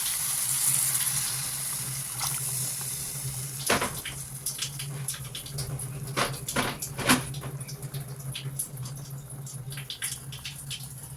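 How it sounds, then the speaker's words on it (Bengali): Water is poured into an egg curry simmering in a pan, giving a continuous splashing gush with a few sharper pattering bursts, close and fairly loud. "এখন আমি জল দিয়ে দিচ্ছি"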